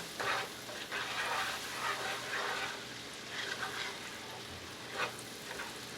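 Bananas get stirred through a hot, sizzling caramel mixture in a pan, a soft steady frying hiss with occasional scraping and bubbling spurts, fairly quiet and without talk.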